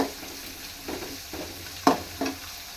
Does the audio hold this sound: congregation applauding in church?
no